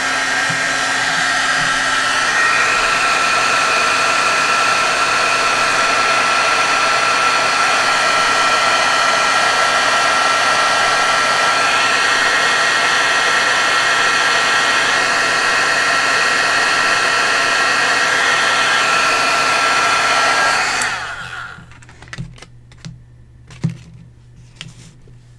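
Handheld heat tool blowing steadily to heat-set stencil ink in a craft project, a loud continuous whir that runs for about twenty seconds before cutting off, leaving faint handling clicks.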